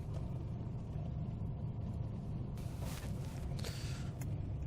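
Car engine idling while warming up, a low steady rumble close by with faint rustling and brief clatter partway through, no speech.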